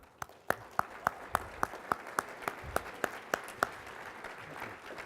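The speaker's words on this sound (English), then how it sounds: "keep the applause going for a couple other folks" Rhythmic, evenly spaced claps, a dozen or so sharp hits, ring out at moderate distance as Mark is welcomed to the stage at a philanthropy and fundraising panel, then fade into a softer murmur.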